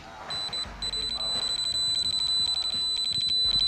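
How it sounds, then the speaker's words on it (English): A Power Probe Hook circuit tester in arc detection mode emitting a toggle tone: a steady high-pitched electronic beep that pauses briefly then continues with slight pulsing, loud and close. "the hook will not supply voltage or ground and will emit a strange toggle tone"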